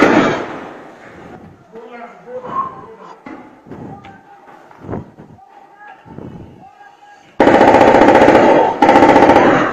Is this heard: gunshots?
yes